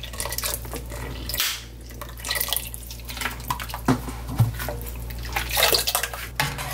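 Bottled water, 1.5 litres, is poured into a cooking pot in a kitchen while making white kimchi broth, giving a close, continuous splashing gush with a few clinks of metal.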